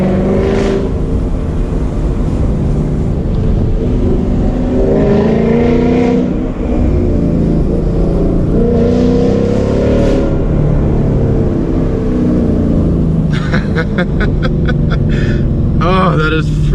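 A Ford Mustang GT fitted with Corsa Extreme exhaust accelerates hard along tree-lined backroads, engine rising and falling through repeated loud pulls, with sharp crackles near the end and someone talking over it.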